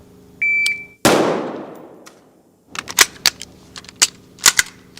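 Carbine gunfire during a combat reload drill: a beep, then a loud single shot with a long decaying echo, a pause for the reload, and then a rapid string of sharp shots at close range.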